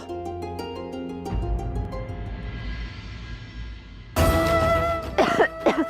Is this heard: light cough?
yes